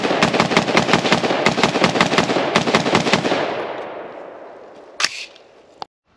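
A braced pistol fired rapidly at an outdoor shooting range, a fast string of loud sharp cracks that ends in a fading echo, followed by two isolated metallic clicks or clanks.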